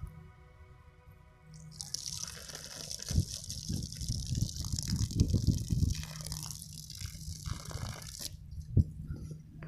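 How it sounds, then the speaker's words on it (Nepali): Water being poured on a film shoot at Dhapcha, a hollow gushing and dripping pour that swells in the middle and then thins out, fairly quiet, with a high steady hiss over part of it. "म चाहिँ पानी हाल्दैछु अहिले"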